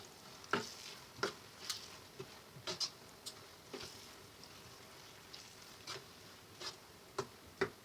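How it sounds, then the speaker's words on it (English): Nigerian party jollof rice being stirred in a pot, a soft simmering sizzle under a series of distinct spoon scrapes and knocks at irregular intervals, close and fairly quiet, with no speech. "Now I'm going to give it a good stir."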